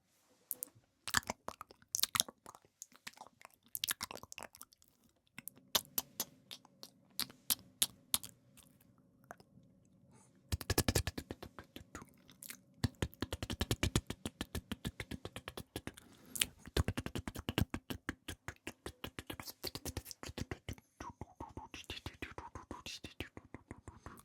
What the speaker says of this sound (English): More mouth sounds.